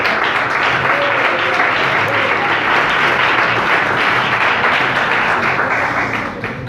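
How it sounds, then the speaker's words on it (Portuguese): A church congregation claps their hands in praise, a dense sustained wave of applause that stays loud and close throughout before easing slightly at the end. "pode louvar o Senhor com as palmas aí"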